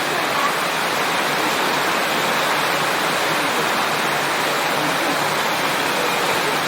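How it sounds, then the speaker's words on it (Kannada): Steady rain falls outdoors near a house in Karnataka, a dense, loud, unbroken hiss holding evenly throughout with no talking. "ಮಳೆ ಬರ್ತಾ ಉಂಟು."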